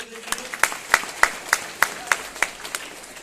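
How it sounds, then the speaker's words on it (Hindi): Sparse, rhythmic clapping from an audience at a network-marketing business event in India, about a dozen evenly spaced claps from a small group at moderate distance, with faint room noise between them. "एक बार प्रमोद गुलाटी जी के लिए जोरदार ताली सर के लिए"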